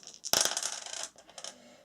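A handful of four dice for a tabletop board game is dropped onto a table, one sharp clatter followed by a quick rattling tumble that fades, then a few small taps as the dice settle. Close and clear, with no talk.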